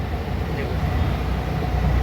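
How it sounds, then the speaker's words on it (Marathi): A Kasara local train at Dadar station rumbles low and steady nearby in a brief, continuous roar of wheels and carriages. "ब्लॉक चालू केला आणि कसारा ट्रेन लागली"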